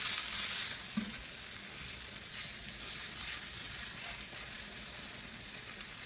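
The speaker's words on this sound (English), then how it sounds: "so while we're browning these on the other side" Pork chops brown in a pan with a steady, close hiss of sizzling fat that continues evenly with no talking.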